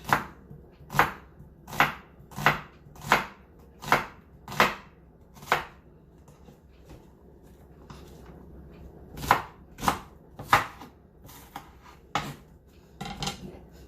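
A knife chops an onion on a cutting board while cabbage is being cooked, giving sharp, distinct thunks: a steady run of about eight strikes, a pause, then several more irregular ones, close and with no talking.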